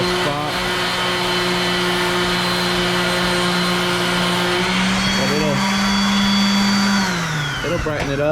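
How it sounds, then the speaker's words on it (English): A DA (dual-action) sander buffs metal on a Honda Talon bed extender tire carrier, whirring steadily and loudly with pitch shifts as pressure changes, while a voice talks over it. "I like to hit it with the DA sander. It just brightens it up real good and quick."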